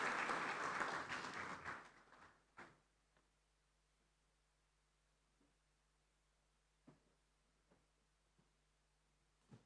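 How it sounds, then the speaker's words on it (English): Parliamentary audience applause fills a large chamber, loud dense clapping that fades out after about two seconds, leaving near silence broken by a few isolated knocks and taps. "Please, a round of applause for Dr. Hudenga David."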